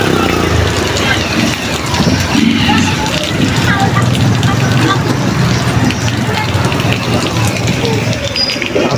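Steady rain pours down in a dense, even hiss that fills the scene, with people talking now and then beneath the downpour.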